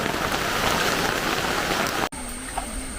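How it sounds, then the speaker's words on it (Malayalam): Intermittent monsoon rain at a Kerala home, a loud continuous hiss of drops on surfaces that cuts off abruptly near the end, leaving a quieter background with a faint tonal hum. "ഒന്ന് പെയ്യും, നിൽക്കും,"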